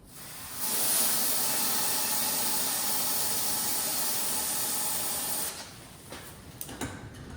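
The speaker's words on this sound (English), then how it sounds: "If you flip it over, it sprays that stuff out." An aerosol can held upside down sprays freezing liquid onto an engine part in a garage, a loud continuous hiss lasting about five seconds, then stopping, followed by a few faint handling clicks.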